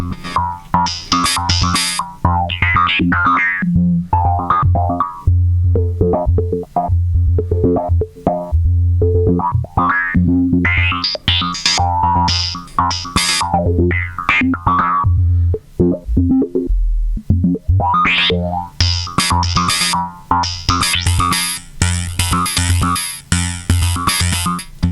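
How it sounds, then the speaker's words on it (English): A raw, buzzy Eurorack modular synthesizer voice with no modulation plays a shifting melodic line, dense and harsh with bright upper tones, steady and loud throughout with no wobble. "So what you're hearing there is no modulation."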